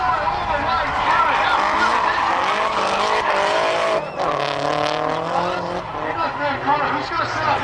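Three cars drift side by side through a corner at Drift Nats, with loud continuous tire squeal layered over straining, revving engines for several seconds. A commentator talks over them.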